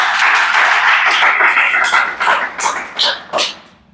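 A police recruitment exam prep class breaks into loud, dense group clapping, which thins into a few separate bursts of applause before stopping.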